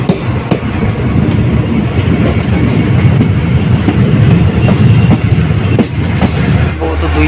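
A passenger train on the Bamanhat to Hasimara line runs on its rails with a loud, steady rumble, rhythmic wheel clatter and faint squeals, heard up close for several seconds without talk.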